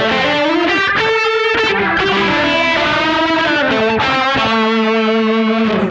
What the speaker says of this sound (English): just to show you that rotary works as a lead thing too